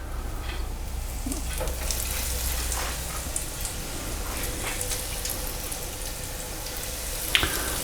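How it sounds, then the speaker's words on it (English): Cheddar cheese croquettes deep frying in a hot fryer, a steady close sizzle and bubbling oil that runs unbroken throughout, with a faint clink near the end. "I'm just going to fry off 2 of these"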